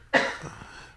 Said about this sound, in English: coughing in the background